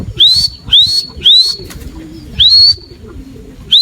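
Racing pigeons newly back from a sprint race in Dasmariñas, Cavite give a run of five bright, rising whistled calls in quick succession, close and clear over faint background murmur.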